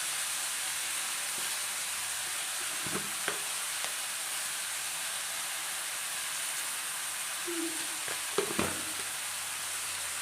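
Onion and green chilli sizzle steadily in hot oil for a Kerala-style beef curry, a constant bright frying hiss with a few soft clinks and stirring scrapes near the end.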